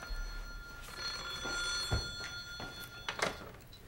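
An indoor telephone bell in a 1984 Korean television drama rings in bright repeated bursts against a steady background hum, with no voices.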